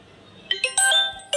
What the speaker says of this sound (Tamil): திடீர்னு ஃபோன் வந்துருச்சு